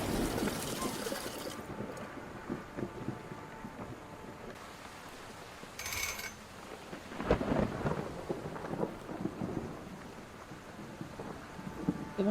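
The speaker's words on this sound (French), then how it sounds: "moi, j'aime pas l'orage et tout." Thunderstorm in the horror game Pineville Night Stalker, with steady rain and deep rolling thunder swelling midway, heavy and enveloping, plus a brief sharper crack.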